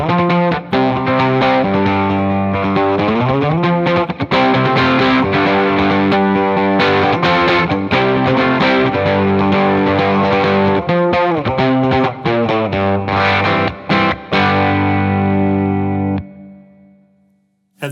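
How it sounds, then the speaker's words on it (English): A loud overdriven electric guitar driving a Matchless JJ30 amp plays chords and riffs with a gritty distorted tone and a reverb-pedal tail, ending on a ringing chord that fades out. "any kind of overdrive or distortion is just this guitar driving the Matchless JJ30 amp"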